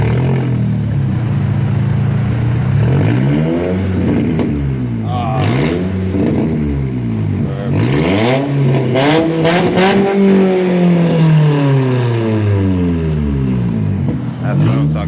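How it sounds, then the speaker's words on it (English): A Nissan SE-R running straight exhaust from the headers, no muffler, revs hard and repeatedly, its loud raspy engine note swooping up and down close by, with voices talking over it. "Straight exhaust,"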